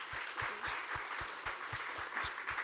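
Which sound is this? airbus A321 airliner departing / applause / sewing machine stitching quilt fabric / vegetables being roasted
applause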